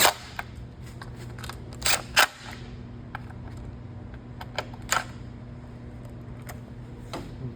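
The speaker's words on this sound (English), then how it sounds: "I'll just tighten the plate right down." Bolts being tightened on a KLX300 motorcycle skid plate with a UHMW overlay, scattered sharp metallic clicks and ratchet-like snaps over a low steady hum, close by.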